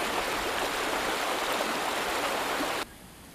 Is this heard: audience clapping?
no